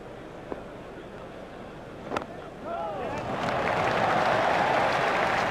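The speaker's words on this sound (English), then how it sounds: "Crowd were brought to their feet by that shot." Crowd applause rises and swells into a sustained roar after a cricket shot in the Cricket 2002 PC video game, following a brief sharp knock, with a commentator's voice faintly present.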